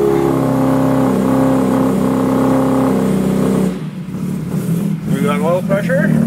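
A Mk1 Mini Cooper S engine runs on its first start-up with the choke being adjusted. A steady idle holds for about four seconds, then drops away into uneven revving, with a voice talking over it.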